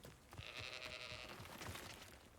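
Goat bleating in the Hogwarts Legacy video game, one drawn-out, wavering bleat heard faintly over a steady wash of ambient game background noise.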